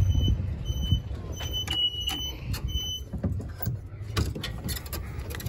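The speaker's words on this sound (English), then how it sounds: "Got your backup buzzer." A Western Elegante four-passenger golf cart sounds its backup buzzer while reversing, repeating beeps over mechanical clunks and drivetrain noise at close range.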